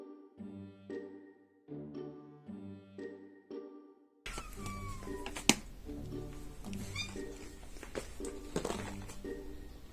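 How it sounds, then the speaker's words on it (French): A cat meows a few times, with a short pattern of tonal, jingly calls at first, then a busier stretch of clinking and rustling. "j'ai un miaulement bizarre"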